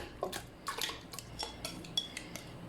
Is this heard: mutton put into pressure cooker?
yes